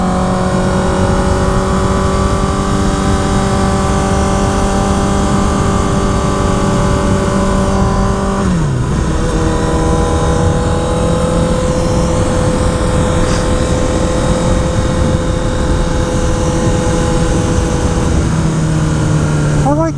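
A Honda CBR 1000RR REPSOL motorcycle engine held at high RPM while riding a tree-lined country road, a loud steady droning whine with a brief dip in pitch partway through, under constant wind rush.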